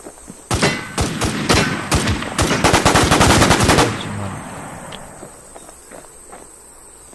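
Rapid bursts of automatic gunfire in the zombie shooter game WarZombie, loud sharp shots in quick rhythm for about three seconds, then fading to faint ambient chirping with a couple of distant pops.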